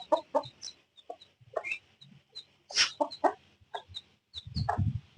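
A hen fights a rabbit, giving sharp, close clucks in irregular bursts, with a louder squawk in the middle and a scuffling rustle near the end.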